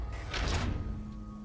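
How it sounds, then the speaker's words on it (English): A large door opens as a sound effect standing in for a small hatch, heard as a short, close thudding whoosh with a faint lingering hum afterward. "a door opens"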